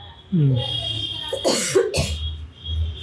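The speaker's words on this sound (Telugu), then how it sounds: "అయ్యో దగ్గు వచ్చింది" A couple of harsh, close coughs with some throat clearing, set against a steady background hum.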